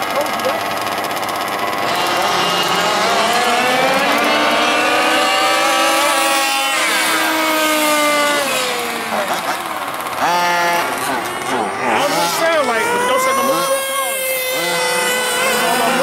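A Traxxas Revo nitro RC truck engine screams at high revs, its pitch rising and falling repeatedly as it accelerates and slows, with voices talking underneath.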